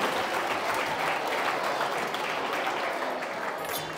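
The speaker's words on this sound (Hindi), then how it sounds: "जोरदार तालियां ललित सर के लिए." A school audience of students claps loudly and steadily to welcome a teacher named Lalit to a chemistry demonstration, a dense unbroken wash of hands lasting a few seconds.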